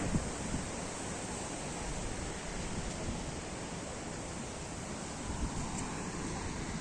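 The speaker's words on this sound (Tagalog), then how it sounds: "Lakas ang alon, oh." Steady, heavy roar of strong ocean surf washing in without pause along a long seaside boulevard in the Philippines, broad and rushing like wind-blown water, with no voices.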